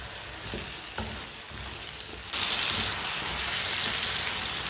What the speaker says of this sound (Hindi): 2 मिनट के लिए भून लेना आलू डाल के